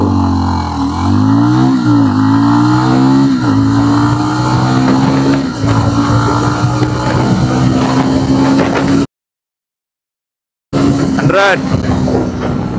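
A 350cc motorcycle accelerates hard from a standstill toward 100, its engine climbing loud and near through several gear shifts, then cut off by a brief dropout before resuming.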